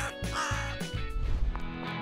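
A crow caws in a few harsh, rasping calls close by, clear and loud over a faint background.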